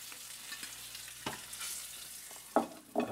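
Pork chops fry in a pan with a steady close sizzle, broken by a few light scrapes and clicks of a utensil against the pan toward the end.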